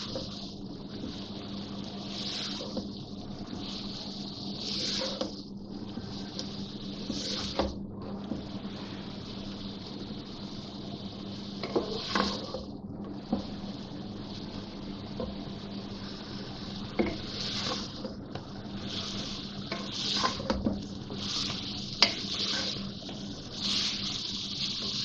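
Grated bottle gourd sizzling in ghee in a pan for lauki halwa, a steady low frying hiss throughout with soft scattered crackles and stirring scrapes, fairly quiet and with no talking.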